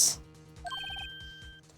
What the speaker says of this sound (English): I heard the phone ring just now.